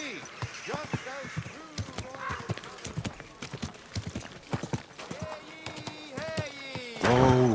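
Horse hooves clip-clop steadily through a city in Kingdom Come Deliverance 2, a brisk rhythmic walk under frequent spoken dialogue, with a brief whinny near the end.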